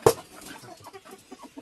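Village chickens cluck close by in a string of short, soft calls after a sharp sound at the start.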